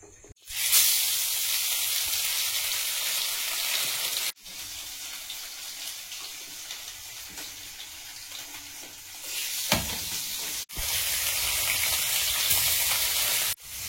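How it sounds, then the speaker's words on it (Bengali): Small mourala fish fry in hot oil indoors, a steady loud sizzle with bright hissing that runs almost unbroken, cutting out briefly twice before resuming at full strength. "মাছগুলো ভেজে নেব।"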